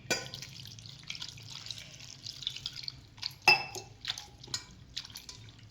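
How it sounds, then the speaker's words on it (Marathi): Water splashing and dripping in a bowl as ambadi (roselle) greens are rinsed in cold water, with soft wet sloshes and a sharper clink partway through; no talking. "आपण आता हे थंड पाण्यानं धुवून पिळून घ्यायचे आपल्याला"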